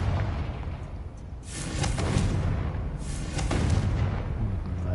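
Blasts from the Confringo fire spell in Hogwarts Legacy on PS5, two loud booming bursts about a second and a half apart, each followed by a rolling, crackling roar.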